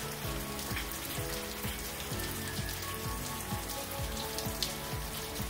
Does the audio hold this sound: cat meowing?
no